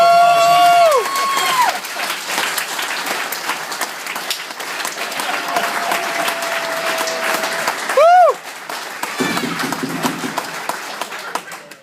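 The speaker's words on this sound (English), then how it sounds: "As this round of applause is all for you." An audience at a stage hypnosis show breaks into sustained applause with cheering and whistles, dense clapping holding steady throughout with a sharp whistle near the start and another later.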